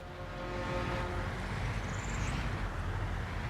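Low droning engine rumble of a truck in the video game Workers & Resources: Soviet Republic, a steady deep hum resembling a boat motor, with a faint brief high whine partway through.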